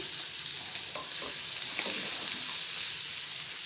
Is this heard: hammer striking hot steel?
no